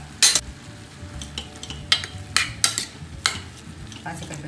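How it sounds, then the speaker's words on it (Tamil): A spoon stirs boiled moong dal into cooked chow chow in a pan, with a series of sharp metallic scrapes and clacks over a low sizzle, close and fairly loud. "பாசிப்பருப்பை சேர்த்து நல்லா மிக்ஸ் பண்ணிடுவோம்"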